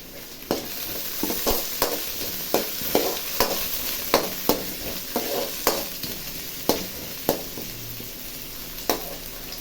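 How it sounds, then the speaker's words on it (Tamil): Carrots and beans sauté in a hot pan with onions for mushroom fried rice, a steady close sizzle punctuated by regular sharp knocks of a spoon stirring against the pan. "இது 2 நிமிஷம் வதங்கணும்."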